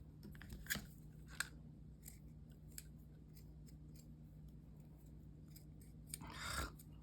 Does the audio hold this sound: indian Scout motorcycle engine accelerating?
no